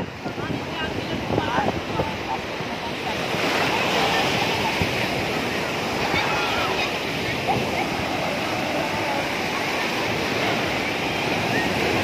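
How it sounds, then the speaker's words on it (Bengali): Sea waves roar steadily onto a shore in Lebanon, a continuous broad wash of surf that swells slightly louder after the first few seconds and holds there. Faint voices sit under the surf. "ঢেউ আসার তালেই থাকে সাগরের গর্জন"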